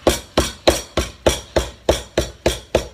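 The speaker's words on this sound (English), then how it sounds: "we're taking our lemongrass, we're pounding it" A hammer pounds lemongrass in about ten steady, evenly spaced blows, each a sharp loud thud, close and heard alone.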